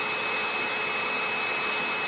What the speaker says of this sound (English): I want to take my blow dryer, and I've got it, I'm going to run it on high